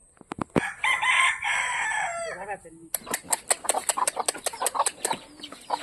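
Chickens and a rooster at feeding time: a long crow comes first, then rapid repeated clucks and wing flaps crowd in close and loud, with a few vocal bursts at the start.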